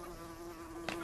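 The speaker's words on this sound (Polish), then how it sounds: "Och, Zosiu, goni mnie ta wstrętna końska mucha." A horse fly buzzes steadily close by, a continuous droning hum with a brief rustle near the end.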